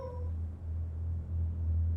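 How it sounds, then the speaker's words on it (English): A cat in the video game Genshin Impact gives a short meow at the start, heard over a low, steady rumbling background. "Wait, there it is! A cat!"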